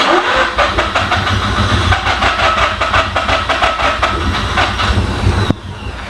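A Mazda RX-8 13B rotary engine with rev problems cranks and catches, then idles roughly with rapid uneven pulses, loud and close, before a sudden drop near the end.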